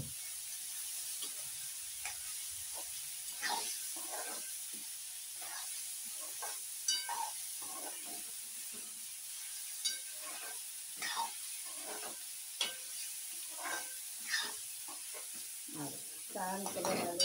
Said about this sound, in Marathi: म्हणजे भाजी जरा परतून घेणार आहे